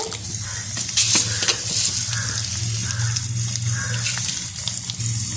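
Chana dal sizzling in hot oil in a pan for a vallarai keerai thuvaiyal, a dense, steady crackling hiss that is close and fairly loud throughout, with no voices.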